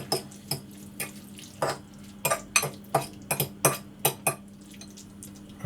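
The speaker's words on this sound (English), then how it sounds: "sun-dried tomato paste into the peppers. So I'm going to stir those around." Peppers with sun-dried tomato paste stirred in a pan, a spoon clinking and scraping in a quick, irregular series of sharp taps, fairly close and alone over a faint steady hum.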